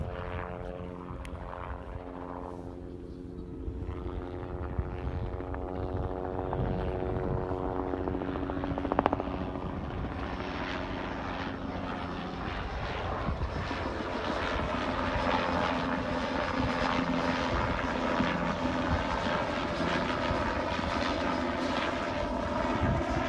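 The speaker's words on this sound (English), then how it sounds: "Here comes the chopper." Helicopter flying overhead at a Dakota Access Pipeline protest, a loud continuous rotor drone with a steady throbbing pitch that swells as it passes near.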